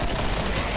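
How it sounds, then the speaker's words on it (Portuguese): Gunfire in the video game Killing Floor, a short, loud, dense burst of rapid shots packed together in under a second. "Eu disparo novamente."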